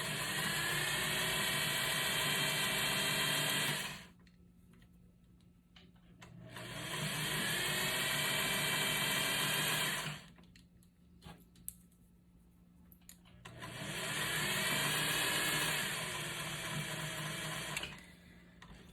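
A sewing machine runs in three long bursts of steady stitching on an important curtain, set to a shorter stitch length, each burst lasting several seconds with brief quiet pauses between.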